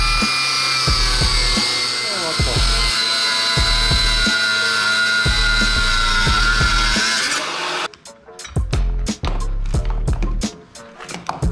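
A small cordless angle grinder whines loudly and continuously, then cuts in and out in short bursts as it stops and restarts, while testing motorcycle and bicycle anti-theft locks.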